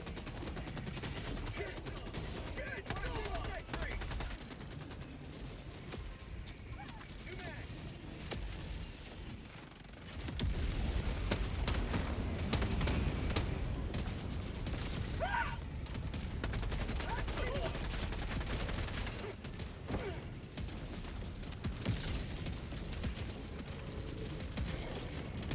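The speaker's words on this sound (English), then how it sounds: "Keep shooting, god damn it!" Sustained, heavy gunfire from a Helldivers 2 battle rattles on through most of the stretch, with a brief lull near the middle before the dense volleys and booms resume at full intensity.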